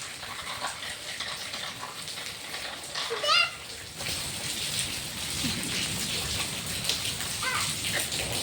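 Steady rain falls outdoors in a continuous hiss on surfaces, growing heavier partway through, with people talking in the background.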